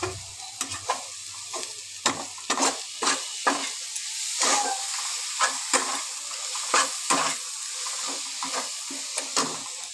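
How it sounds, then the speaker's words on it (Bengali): Vegetables and chow mein fry in a pan, stirred in a quick irregular rhythm of close scraping strokes over a steady sizzle, with no voices. "আমি চাউটাকে দিয়ে দিয়েছি এর মধ্যে, দিয়ে আমি নাড়াচাড়া খানিকক্ষণ করেছি"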